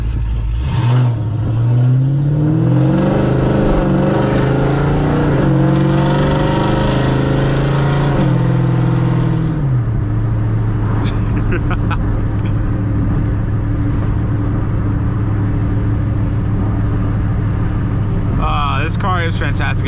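A straight-piped, cammed 3V Ford Mustang V8 revs hard, its loud raspy exhaust climbing and falling through several throttle blips before settling into a choppy, lumpy idle, with brief clanks near the end.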